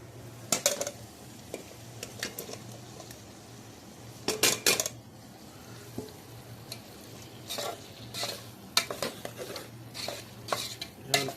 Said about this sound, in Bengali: কলিজাটা সুন্দর করে ভুনা করব।